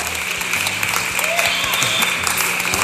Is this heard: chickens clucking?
no